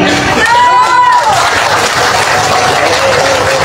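Crowd at an outdoor political rally in Semporna, Malaysia, breaking into loud, dense clapping and cheering, close and sustained, with shouting voices mixed in and a speaker's amplified voice over the noise.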